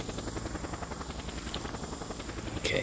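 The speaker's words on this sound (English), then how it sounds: "Let's call in the helicopter." A called-in helicopter in the video game Just Cause chops along with a steady, rapid rotor beat, fairly quiet and constant, with a short bright noise at the end.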